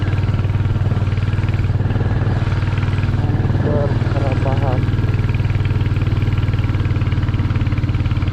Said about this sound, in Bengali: বাইক প্রপার পাওয়ার ডেলিভার করতেছে